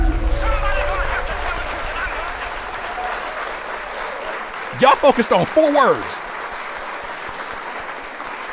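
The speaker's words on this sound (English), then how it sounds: "Round of applause for myself" A small audience claps for someone who has just read a long passage aloud, a steady patter of applause running under a voice before a short burst of louder voiced exclamations near the middle.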